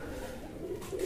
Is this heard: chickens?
no